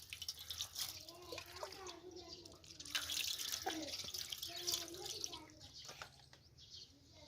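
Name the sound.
tap water running while washing quail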